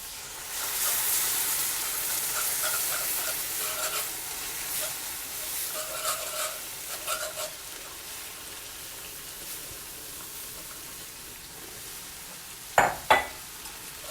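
Sausage gravy sizzling in a pan as milk is added and stirred: a steady bright hiss with soft scraping and stirring motions through the middle, easing toward a quieter simmer, then two sharp clacks of a utensil against the pan at the end.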